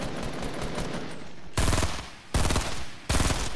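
Bursts of automatic gunfire in a squad-based video game, three loud volleys close by, each sustained and rattling, with a steady background din between them.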